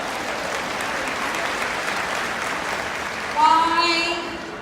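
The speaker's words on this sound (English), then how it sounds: "Give yourself a round of applause" A conference audience claps together in sustained, even applause, fairly distant and moderate in level, swelling briefly near the end as a few voices or cheers rise above the clapping.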